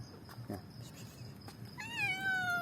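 Cats meow while being fed at home, a close, rising and drawn-out meow near the end following softer cat sounds, with a person talking in the background.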